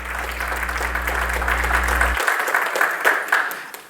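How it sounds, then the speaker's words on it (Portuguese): A church congregation applauds together, a full steady roar of many hands clapping close by. A low organ or keyboard hum sits under the clapping and cuts off partway through. "Podem aplaudir"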